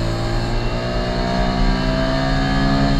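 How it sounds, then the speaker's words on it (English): Small Suzuki engine of a 1993 Autozam AZ1 kei sports car held at a loud, steady rev close by, a buzzy continuous drone with rich harmonics and slight wavering in pitch, no voices. "I know some people don't like the sound of Suzuki engine."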